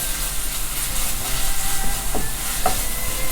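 Curry paste sizzles in a pan while being stir-fried for a pork belly and shrimp paste dish, a steady close hiss with a few faint clinks and scrapes.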